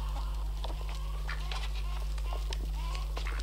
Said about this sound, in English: fill the food trough for the free-roaming hens